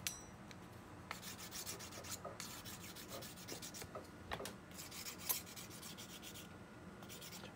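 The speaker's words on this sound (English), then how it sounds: "I'm going to sand from the middle out to the right rail to kind of make it more symmetric" A glass crystal clarinet mouthpiece rail being sanded on 240 grit sandpaper, a close, quiet, steady rubbing rasp of repeated short strokes in an even rhythm.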